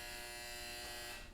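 A clothes dryer's end-of-cycle buzzer sounding in a home, a steady harsh electric buzz held for over a second before cutting off, fairly loud with no talk.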